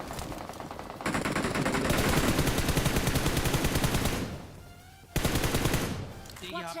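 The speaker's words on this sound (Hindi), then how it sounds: "पीछे की तरफ तो बंदे का तुम लोगों ने अभी साउंड सुना ही होगा, किसी ने फायर किया था" Rapid automatic gunfire from the BGMI battle royale game rattles in long dense bursts, loud and close, with a brief lull before another volley erupts.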